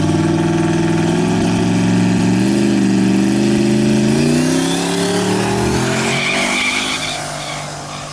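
Street racing cars in Mexico, a Camaro and a BMW, roar loudly with engines revving and tires skidding, a strong sustained drone that sweeps in pitch and then fades slightly as they pass.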